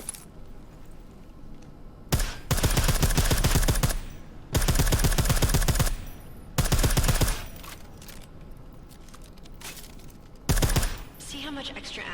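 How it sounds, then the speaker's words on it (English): Suppressed automatic fire in Deus Ex: Mankind Divided comes in four or five sharp, rattling bursts, each lasting about a second or two and separated by quieter gaps. "I like how silencers reduce sound, but the trade-off is less stopping power"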